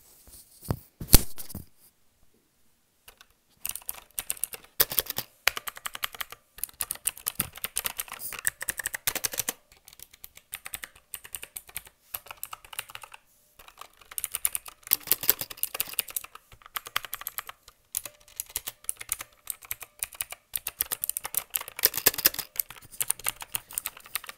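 Bursts of clicky mechanical keyboard typing on a Gamepower Warlock with blue switches, fast and uneven, with short pauses between runs of keystrokes; close up and fairly loud, no talking.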